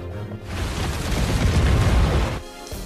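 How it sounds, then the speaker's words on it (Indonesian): A loud, rumbling blast from an exploding oil tank swells and roars for about two seconds before dying away into quieter noise. "Ledakan itu menyulut ledakan-ledakan lain."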